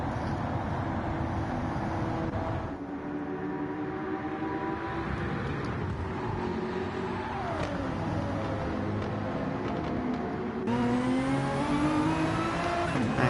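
A race car in a Petit Le Mans endurance racing video game pulls out of the pit lane after a tyre change, its engine droning loud and steady, then rising through gear changes with whining pitch sweeps.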